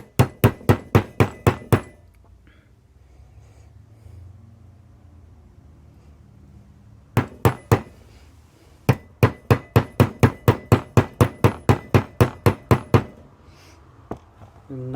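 Rapid bursts of sharp, ringing hammer blows on metal while rebuilding a Honda NSX CV axle, a quick series, then a pause, then two more long runs of evenly spaced strikes.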